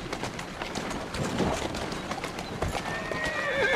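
Horse hooves clip-clopping at a gallop with a whinny, from the video game Assassin's Creed Syndicate, steady and fairly loud throughout, with faint bird-like chirps near the end.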